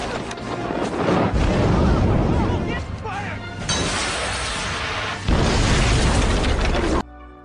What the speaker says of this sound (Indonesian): para narapidana meledakkan kantor Winter